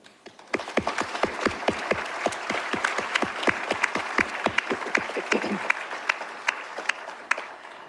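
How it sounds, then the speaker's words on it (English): A graduation ceremony audience at Bermuda College gives a round of applause, heard as a steady run of sharp, distinct hand claps that swells into denser clapping and continues throughout, fairly near and with no talking. "Please join me in giving them a big round of applause"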